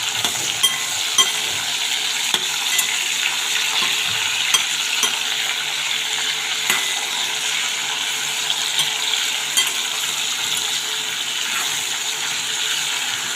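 Cumin seeds sizzle in hot oil in a pan, a steady bright crackle and hiss with scattered small pops, close and continuous throughout, no voices.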